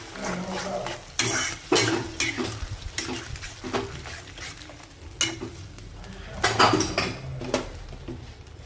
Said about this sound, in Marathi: आता मिक्स चांगलं करून घ्यायचं आहे